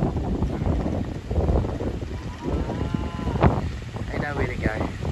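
Wind gusts buffet the microphone in a farm field of long grass while rising two-year-old calves are driven, a steady rough rumble with a brief sharp knock partway through.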